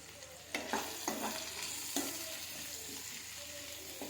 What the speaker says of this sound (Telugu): స్మెల్ రాకుండా ఉండడం కోసమని ఆయిల్లో బాగా ఫ్రై చేస్తున్నాం